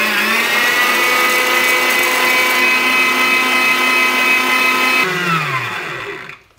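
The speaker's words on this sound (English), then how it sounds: "And put it on the whisk again." An electric whisk whirs loudly and steadily while beating sugar into meringue for a key lime pie, holding a constant high motor whine before the pitch slides down and winds off at the end.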